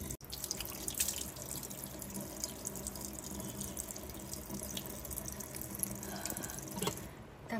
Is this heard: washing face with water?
yes